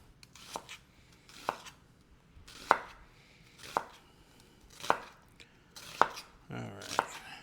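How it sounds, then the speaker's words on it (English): Vegetables chopped with a knife on a cutting board while making Italian sausage with peppers and onions, seven sharp, evenly spaced knife strikes about one second apart, close and clear with no talking. "me chopping vegetables"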